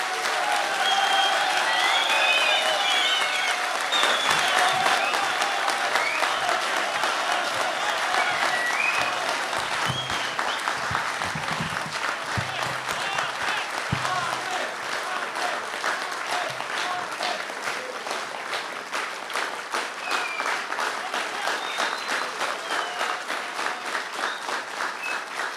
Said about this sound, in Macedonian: Ве молам со аплауз да го поздравиме идниот градоначалник